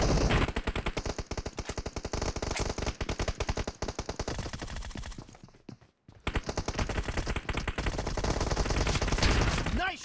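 Shotgun fire in the video game PUBG Mobile during a shotguns-only team deathmatch: loud, rapid, close volleys of shots, a brief lull midway, then sustained firing again.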